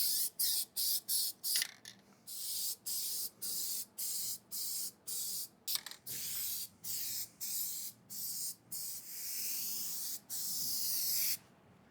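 Short bursts of aerosol guide coat spray hiss over a sanded 1974 Plymouth Duster engine bay, quick and choppy at first, then a steady series of longer sprays with brief pauses between, close and loud.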